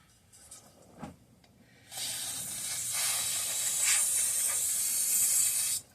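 Aerosol carburetor cleaner sprays in a steady, loud hiss onto the carburetor of an antique Toro model 18005 mower, running alone for about four seconds after a few quiet clicks.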